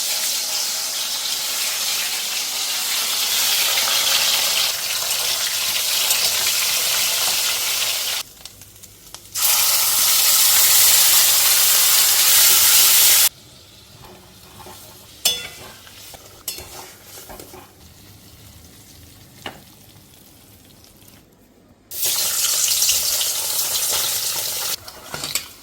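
Mete alu (yam) frying loudly in a pan, a bright broadband sizzle in long bursts that drop to quieter stretches of faint clatter and stirring before the hiss surges again, no voices.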